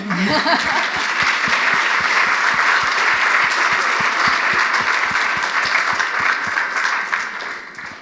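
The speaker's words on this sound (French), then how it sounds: "Oui, on peut applaudir." Enthusiastic audience applause at a Jane Goodall lecture on wildlife, a dense, loud, steady roar of clapping from a large crowd with scattered chuckles, holding for about eight seconds before easing off.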